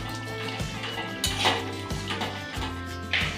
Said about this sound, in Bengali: এবার আমি এটাকে মিশিয়ে নিয়ে 2 মিনিট ফুটিয়ে নামিয়ে নেব।